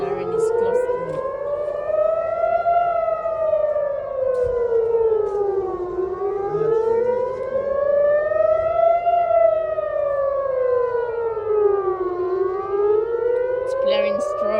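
An ATI HPSS32 air raid civil defense siren blares loud and close, its wailing tone rising and falling in slow, steady sweeps with strong harmonics and no talk over it.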